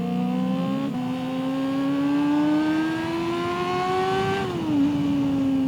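A 250cc motorcycle engine screams at very high RPM, its pitch dropping once, then climbing steadily before falling back, loud and close with no talk.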